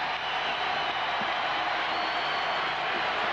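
A basketball arena crowd at the 1992 NBA Finals between the Chicago Bulls and Portland Trail Blazers roars in a dense, continuous wash of cheering that fills the whole stretch evenly.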